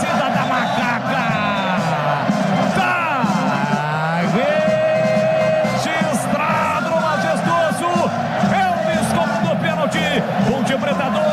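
Ponte Preta supporters roar and chant after a goal against Londrina in a Brazilian Série C final, a dense, loud stadium crowd with an excited commentator yelling over the continuous noise.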